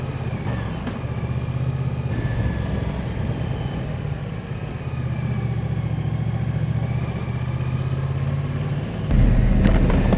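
A 2025 Moto Guzzi Stelvio motorcycle engine runs at low speed with a steady, close, rumbling throb, and it gets slightly louder near the end.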